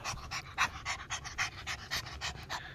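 A Yorkie dog pants rapidly and steadily, with quick rhythmic breaths heard close up and fairly soft, and no voices over it.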